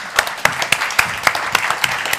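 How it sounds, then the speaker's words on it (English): An audience at the 2022 Nobel Peace Prize event gives brief applause, distinct claps popping out over a softer spread of clapping from a nearby crowd. "Give her a warm applause"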